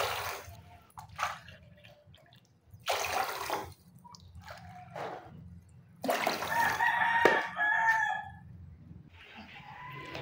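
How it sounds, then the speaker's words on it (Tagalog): Four cups of water are poured into a cooking pot that already holds salt, giving bursts of splashing and trickling water between quiet gaps while a rooster crows clearly in the background. "Maglagay na rin tayo ng 4 na cup ng tubig."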